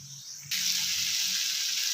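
Tomato masala for a cashew curry sizzles in a hot pan, a sudden steady frying hiss that starts partway through and holds close and fairly loud, with no voices.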